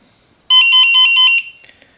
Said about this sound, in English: the alarm sounds, but then it stops